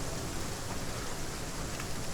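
Steady rain in the survival video game Aska, a dense even hiss of falling water with no breaks, heard alone at moderate distance.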